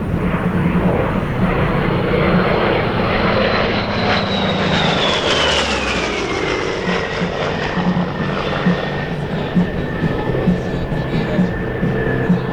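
An A-1 Skyraider propeller warplane roars through a close air support demonstration pass at an airshow, a loud droning engine rising as it approaches overhead and then falling in pitch as it passes.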